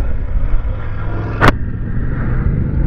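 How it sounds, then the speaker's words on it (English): Riding a 2023 BMW F850GS Trophy, a liquid-cooled 95-horsepower parallel-twin adventure motorcycle: a steady engine drone and road rumble blend with wind under the rider, with a brief sharp broadband burst midway. "I am riding the BMW 850gs, and this is a parallel twin liquid cooled 95 horsepower"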